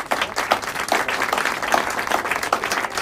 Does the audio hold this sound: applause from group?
yes